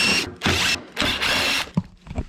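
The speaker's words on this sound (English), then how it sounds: "On this side, we'll be removing these screws." A power driver spins screws out of a Carrier propane furnace's secondary heat exchanger panel in short, close whirring bursts separated by brief pauses, with a couple of small clicks at the end.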